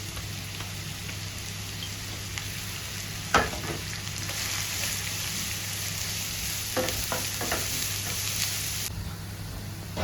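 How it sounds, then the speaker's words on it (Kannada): Onions, garlic, ginger and green chilli fry in a pan with a steady, close sizzle, broken by a few sharp stirring scrapes and clatters; no voices. "ಇದು ಗೋಲ್ಡನ್ ಕಲರ್ ಬರೋ ತನಕ ನಾವು ಫ್ರೈ ಮಾಡ್ತಾ ಇರಬೇಕು."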